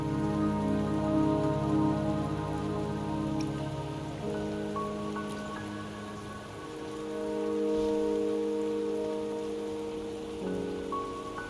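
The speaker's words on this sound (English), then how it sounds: "Don't worry, the rain won't last much longer." Steady rain falls in the Wuthering Waves video game, a continuous soft patter of drops that stays even throughout, with gentle sustained game music underneath.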